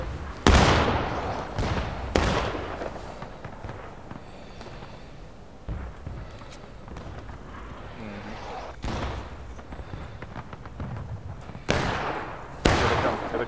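Musket volleys in the Civil War game War of Rights ring out as sharp, loud cracks, some single and some in quick pairs, spread across several seconds with lulls in between and faint voices underneath.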